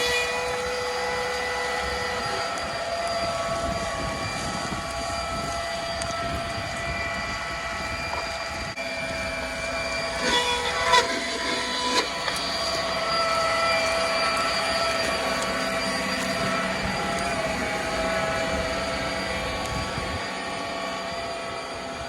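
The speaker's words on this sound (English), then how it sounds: "We're ripping, going just under 4 miles per hour, which is impressive given a 70 horse tractor and gumbo." A Monarch electric tractor of 70 horsepower driving slowly through sticky gumbo soil, giving a steady mechanical hum and whine with a brief clatter partway through, and no voices.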